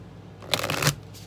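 Tarot cards are shuffled close up, a single quick riffling burst lasting under half a second, then a faint flick as a card is pulled.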